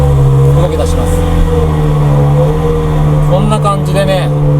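A used Ferrari with paddle shifters pulls away slowly in low gear on a long half-clutch, its engine giving a steady, close, loud drone throughout. Someone talks over it near the end.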